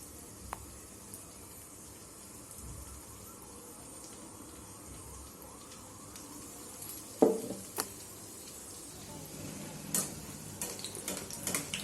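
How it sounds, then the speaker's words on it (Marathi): Vada pav potato fritters deep-frying in oil over a slow-to-medium flame, a faint steady sizzle with a few light ticks and one sharper clatter partway through, no voices. "हळूहळू मी चार ते पाच वडे तेलामध्ये टाकून घेणार आहे"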